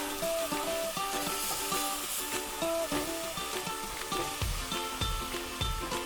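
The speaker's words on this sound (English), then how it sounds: "We have to keep stirring it so it doesn't burn at the bottom" Butter chicken sauce is stirred in a pan on the stove, giving a steady sizzle with soft repeated scraping strokes, close and quiet, with no one talking.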